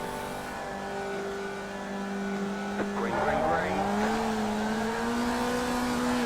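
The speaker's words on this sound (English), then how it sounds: "I spun up the rears just a little bit too much and also over-revved in first" Formula Vee race car in iRacing at Okayama, its engine over-revving in first gear at the race start as the rear tyres spin, a droning note that surges and climbs sharply, with a brief tyre squeal and a voice speaking over it.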